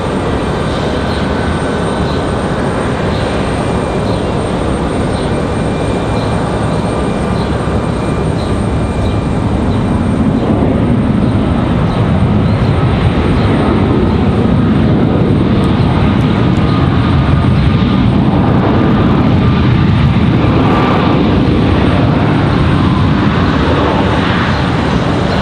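Boeing 737 MAX 9 jet airliner from San Francisco at Raleigh Durham airport, heard as a loud, continuous engine roar that holds steady for the whole stretch with no talk over it.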